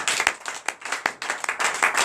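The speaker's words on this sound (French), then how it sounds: "donnez l'acclamation à la Seigneur" A congregation at a night prayer service claps for the Lord in sharp, uneven bursts, individual hand claps standing out close and loud in a scattered, irregular rhythm.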